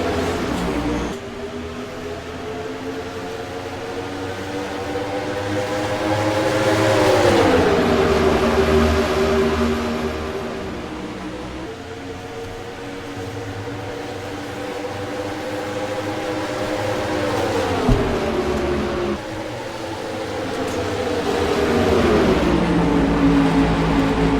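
Several stock cars in the NASCAR Racing 2003 simulator roar around Darlington Raceway in the Mello Yello 150, a dense layered engine drone whose pitch swells and dips together as the pack moves through the corners, continuous for the whole stretch.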